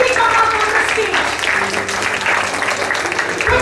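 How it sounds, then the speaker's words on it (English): Audience applause at a school investiture ceremony, a brisk crowd of clapping hands close and loud for a few seconds, with voices mixed in underneath. "Big round of applause."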